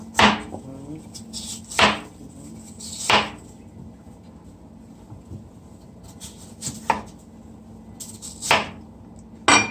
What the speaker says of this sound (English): this is the yam. And you're just gonna slice.